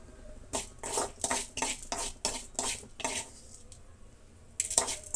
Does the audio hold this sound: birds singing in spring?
no